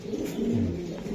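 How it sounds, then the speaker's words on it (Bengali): A male racing pigeon gives one short, low, throaty coo up close, alone and clear. "এটা নর কবুতর"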